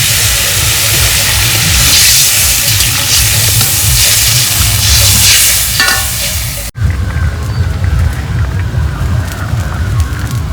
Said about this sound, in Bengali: মশলা কষানো হয়ে গেছে এবার জল দিয়ে দিচ্ছি